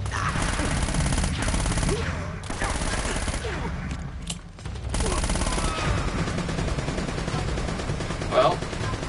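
Gunfire in Uncharted: Drake's Fortune, a dense steady barrage of shots filling nearly the whole stretch alongside game sounds, with a brief lull in the middle before the firing resumes.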